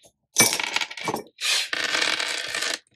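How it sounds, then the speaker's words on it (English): Dice rolled on a bare desk give sharp clattering bursts of tumbling and rattling, several quick rolls separated by brief pauses, close and fairly loud. "roll our dice"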